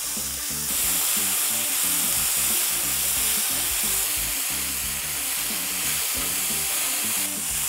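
Steady loud sizzling of pork gyros meat frying in a pan, with rhythmic low knocks and scrapes of stirring underneath.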